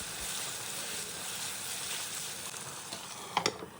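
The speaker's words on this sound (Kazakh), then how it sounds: "ұсақтап туралған пиязымызды қосып, араластырып, табаны жауып 5 минут қуырып аламыз" Minced meat and chopped onion fry in a pan with a steady, close sizzle, a brief clatter of stirring near the end and no talking.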